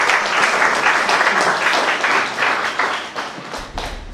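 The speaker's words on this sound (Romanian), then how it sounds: "Și o aplaudăm." Steady, loud applause from an audience at a book launch, dense clapping that keeps going for several seconds and thins out toward the end.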